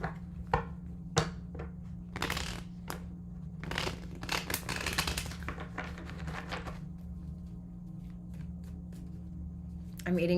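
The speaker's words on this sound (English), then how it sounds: "All right, one last shuffle for Sagittarius and their person." Tarot cards being shuffled in bursts of crisp riffling and slapping, dense in the middle and then trailing off, over a steady low hum.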